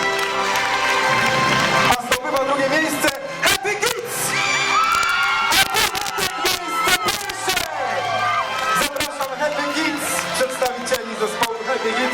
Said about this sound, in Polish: Brawa dla dychów.